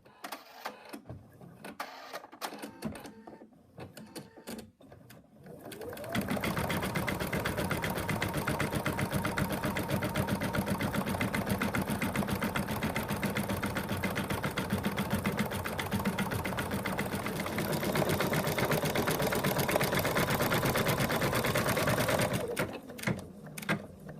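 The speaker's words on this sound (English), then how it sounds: "I'm just going to put it back in the machine, and it's going to do an outline of the body shape" An embroidery machine stitches the body outline of a teddy bear in a hoop, running as a steady, loud mechanical whir for most of the stretch, with quieter handling noises before it starts and after it stops.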